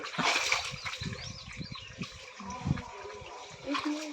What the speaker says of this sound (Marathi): पाणी उडव असं माझ्यावर नाही तिकडे भार उडव